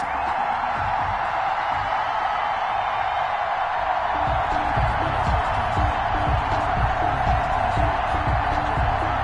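Steady roar of a packed stadium crowd before kickoff at a Thanksgiving afternoon Philadelphia Eagles vs Dallas Cowboys football game, a broad continuous wash of noise with faint cheers and claps inside it.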